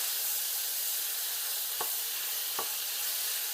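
Beef with peppers and onions sizzles in a hot pan during stir-frying, a steady close hiss with two brief stirring scrapes.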